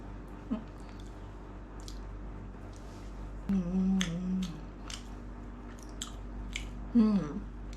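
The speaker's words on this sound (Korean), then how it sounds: "그러면 케밥 고기랑 같이 먹어볼게요" Someone eating kebab meat with tomato sauce in İzmir: soft, close, moist chewing and biting in a quiet room, with brief murmured vocal sounds between mouthfuls.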